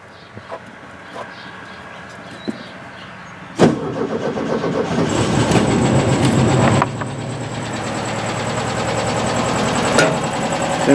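A 1970 VW Beetle engine cranks and catches at about 3.5 seconds, then runs loud and steady with an uneven, missing beat and occasional sharp pops, the idle rising slightly toward the end.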